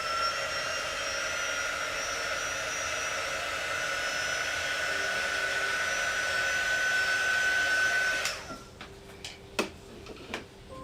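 A craft heat dryer runs on a paste and peel project, a steady loud whirring blow for about eight seconds that then cuts off, followed by a few faint clicks and taps.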